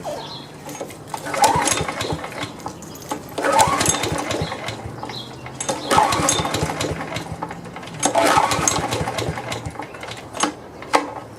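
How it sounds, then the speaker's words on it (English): A small engine taken off an old lawn mower is cranked over and over, giving about four sputtering bursts of mechanical chatter spaced roughly two seconds apart. It sounds close and moderately loud. "this just came off an old mower, and I'm gonna see if it'll crank up"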